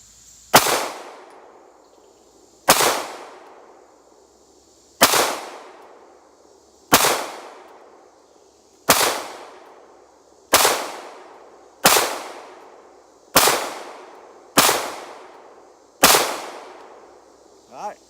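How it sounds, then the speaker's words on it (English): Ten sharp shots from a Glock 19 pistol fired at a target, spaced about one to two seconds apart, each a loud crack followed by a short fading echo, with quiet between them. "I got 10 rounds on right here, and we're gonna shoot the right side target"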